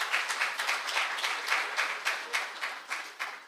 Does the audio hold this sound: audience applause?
yes